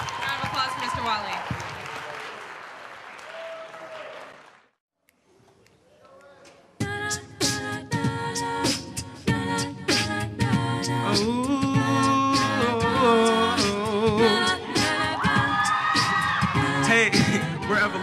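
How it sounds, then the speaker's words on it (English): Audience applause breaks out at a high school a cappella Valentine's concert. Dense clapping lasts about four seconds, then dies to near silence before harmonic voices take over. "Round of applause for Mr. Wally."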